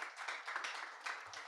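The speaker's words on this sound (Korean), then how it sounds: "오늘도 우리를 향해서 가장 아름답다 좋았더라고 말씀해 주시는 주님께 우리 영광의 박수 올려드리도록 하겠습니다" Congregation applause during an online worship service, a short burst of scattered, quick claps at modest volume.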